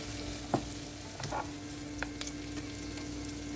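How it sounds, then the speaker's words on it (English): Sliced onions sauté in oil and butter in a pan, giving a steady, close sizzle with a few sharp stirring clinks and scrapes scattered through. "I will now add the sliced onions and saute until it gets caramelized for about 5 to 8 minutes"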